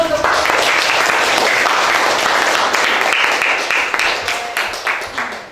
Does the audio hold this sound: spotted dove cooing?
no